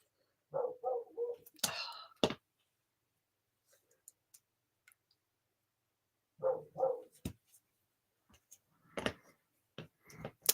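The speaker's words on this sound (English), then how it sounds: "Yes, you can hear him barking." A dog indoors gives short bursts of barking, two clusters of quick yaps separated by quiet stretches, with a few faint clicks in between.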